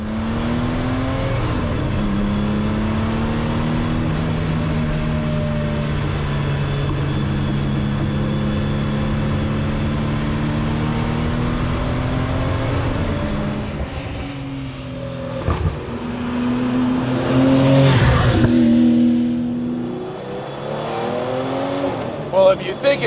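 A 750 hp carbon-bodied prototype air-cooled Porsche drives at length, its engine droning steadily and then rising in loud revving surges near the end, heard close up with a voice talking over it.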